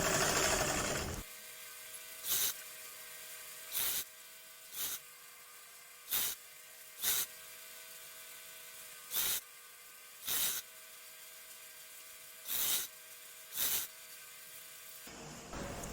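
Short, regular bursts of a sewing machine stitching elastic onto salwar fabric, about a dozen quick runs spaced evenly over a steady background hiss, close and fairly quiet.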